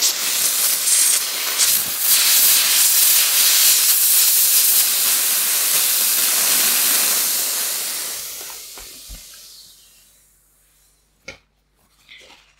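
A VAX steam cleaner with a blocked nozzle and low pressure jets steam onto a silicone mat, giving a loud continuous hiss for about eight seconds that fades, then a few brief sputters and clicks.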